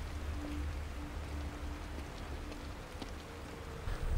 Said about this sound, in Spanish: La lluvia borrará todas las pruebas.